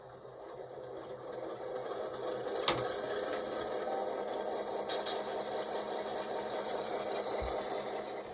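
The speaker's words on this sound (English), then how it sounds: "the default is this EMD 567 non-turbo" A model ALCO FB2 locomotive with a DCC sound decoder plays its default EMD 567 non-turbo diesel engine sound, a steady rumbling idle through a small speaker that holds level throughout, with a few faint clicks.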